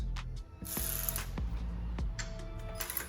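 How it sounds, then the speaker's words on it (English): A ratchet loosening a tensioner nut on a 2004 Infiniti G35 engine during a water pump change: quick bursts of clicking pawl strokes with brief pauses between, close and fairly quiet. "We're also gonna loosen that nut."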